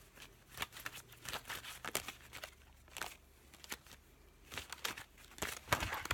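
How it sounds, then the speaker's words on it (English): Tarot cards being shuffled by hand, a faint close series of irregular papery riffles and crinkles in quick bursts, with no talk. "The shuffling process is tedious."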